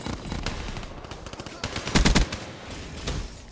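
Gunfire in a first-person online shooter: a burst of several rapid, close shots stands out near the middle over a steady bed of game ambience, with lighter scattered shots before and after.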